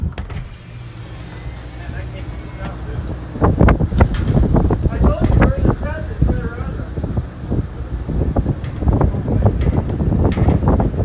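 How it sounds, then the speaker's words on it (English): Strong storm wind drives dust across the open plains of central Nebraska around a storm chaser's car, roaring and buffeting loudly and unevenly as a voice talks over it. "Look at this wind."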